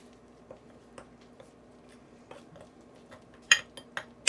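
Spoon clinking against a bowl while salt, hot sauce and spices are mixed into a marinade for spicy fried fish, a quiet series of light taps building to a few louder clinks near the end, with no talking.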